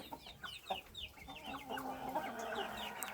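Young Thai gamecock chickens, a brood of cockerels sired by a Nok Weed father out of a B2 hen, cluck and squawk in a series of short calls at close range. Scattered call-like bursts run throughout, with a soft rolling note near the end.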